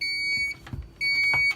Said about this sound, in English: it's beeping because the cover's off